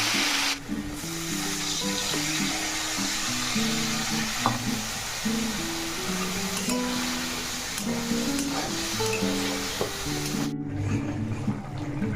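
Mustard seeds crackle and sizzle steadily in hot oil while tempering vegetables, a close, continuous frying hiss with scattered pops and a faint background hum.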